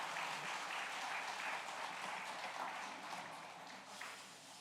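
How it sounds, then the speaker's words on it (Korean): A church congregation applauding during a Sunday morning worship service, a continuous broad patter of many hands that stays fairly even and tapers slightly near the end. "잘 다녀오셨다고 우리 박수 한번 해주시기를 바랍니다."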